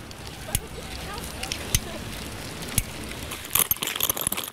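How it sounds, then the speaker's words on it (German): A bicycle rattling and clanking, with a few isolated sharp metallic knocks spread out, then a denser burst of jangling rattles near the end, over a steady background hiss. "Das Scheppern meines Fahrrads."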